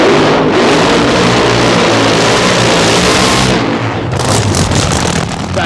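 A nitro funny car roars through a burnout at a night drag race, its engine a loud, harsh, continuous blast that suddenly drops off, then gives way to crackling pops and lingering engine rumble.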